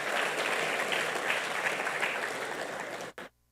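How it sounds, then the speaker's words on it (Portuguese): A church congregation at a men's service applauds a long-married brother, dense steady clapping filling the space before it cuts off abruptly near the end. "Vamos aplaudir aí a vida do irmão Zé, 47 anos"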